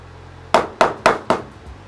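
A hammer peens the end of a wooden tenon for a hand-tool timber-frame sawhorse: four sharp, loud, close impacts land about a quarter-second apart, each decaying quickly.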